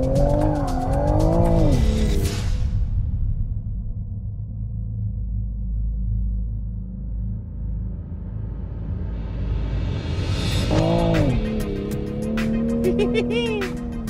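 Rear tires of a 2020 Toyota Supra squeal loudly on track pavement during a controlled power slide, a sustained screech over a steady engine roar, with sharp squealing bursts at the start and again near the end.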